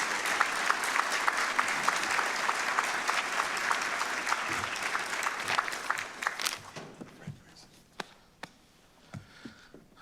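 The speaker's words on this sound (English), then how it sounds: "give Dr. Bertley a round of applause as he makes his way to the stage" An audience at a keynote forum applauds as the speaker walks to the stage, dense clapping that thins after about six seconds into a few scattered claps.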